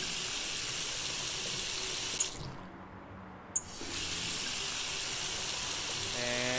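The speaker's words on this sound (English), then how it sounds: "We need to fill it with water." A kitchen tap in a cooking video game runs water into a pot as a steady hiss, briefly shut off for about a second and a half before flowing again.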